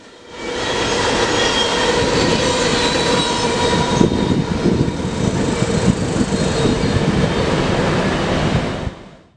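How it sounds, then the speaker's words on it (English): A northbound grain train hauled by Canadian Pacific locomotives rumbles past in North Louisiana, a loud steady roar of wheels and cars holding for several seconds before fading away at the end. "a northbound grainer came through, with some more Canadian Pacific foreign power"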